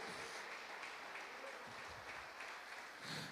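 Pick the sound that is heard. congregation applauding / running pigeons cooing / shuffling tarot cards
congregation applauding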